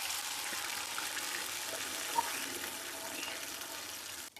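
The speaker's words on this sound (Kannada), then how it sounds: "ಇವಾಗ ಇದಕ್ಕೆ ನೀರು ಹಾಕೋತಾ ಇದ್ದೀನಿ." Water is poured onto sugar in a kadai while making khaman dhokla, a faint, steady gushing pour that runs unbroken before stopping abruptly.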